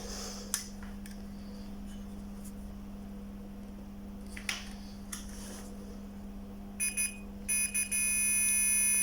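Short electronic beeps from a digital multimeter set to continuity while testing a loudspeaker, sounding as a high steady tone near the end after a quiet stretch with faint clicks.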